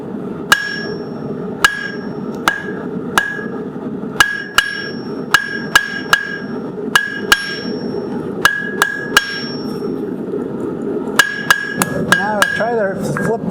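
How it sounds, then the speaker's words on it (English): A cross peen hammer rings against hot steel in steady, sharp blows while forging a hook, well over a dozen strikes with short pauses, loud and close over a low background hum. "use that cross peen hammer, even that big heavy one"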